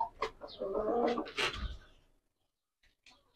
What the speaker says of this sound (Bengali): ভাই একটা মোরগ দেখান আগে